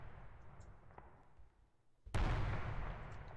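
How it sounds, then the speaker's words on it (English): A single gunshot from the horror video game Hotel Remorse booms out suddenly after quiet ambience, then a dense rumble lingers to the end, fairly faint overall. "I keep hearing a gunshot"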